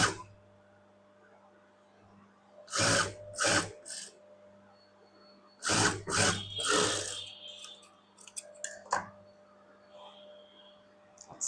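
Sewing machine top stitching a blouse hem, running in a few short bursts of rapid stitching separated by quiet pauses, with a faint hum in between.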